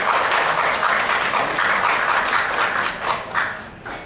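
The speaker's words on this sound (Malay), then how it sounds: "bagi tepukan kepada sejarawan." A lecture audience at a Malaysian university applauds a historian, a loud, close, continuous roar of clapping that stays steady before thinning and easing off near the end.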